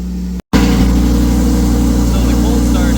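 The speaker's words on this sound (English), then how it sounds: "let's give it one more cold start here with the tune that we are trying to get rid of" A tuned Lamborghini Huracan cold-starts after a brief silence, bursting into a loud, steady, high idle that roars close by and stays strong to the end, with voices talking over it.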